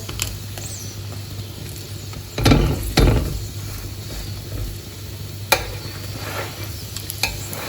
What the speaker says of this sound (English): I'm just going to cook it a tiny bit more on both sides. So just keep on pressing.